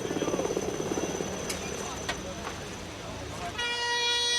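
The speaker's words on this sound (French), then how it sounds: "L'hélicoptère repart avec le blessé." A Paris fire brigade helicopter departs carrying an injured person, its rotor thrum and whine filling the scene, with a few sharp clanks, then a steady high-pitched tone rises near the end.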